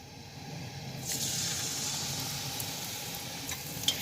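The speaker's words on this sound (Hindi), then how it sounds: "तो अब हम इसको फ्राई करेंगे।" A batter-coated spinach leaf drops into hot oil, and a soft hiss swells about a second in into a steady, close crackling sizzle that carries on alone.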